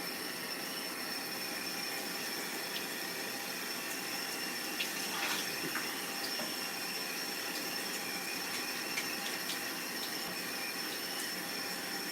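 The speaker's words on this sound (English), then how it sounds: "we're gonna go ahead and fill it up with some water" Water runs steadily into a container for reptile eggs, a continuous faint splashing hiss with a few soft knocks, no voices over it.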